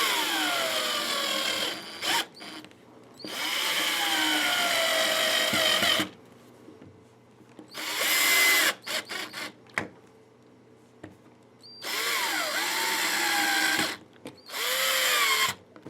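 A power drill driving screws while a guitar is assembled from budget online-marketplace parts, sounding in four loud whirring bursts of a few seconds each, separated by quieter gaps with small handling clicks.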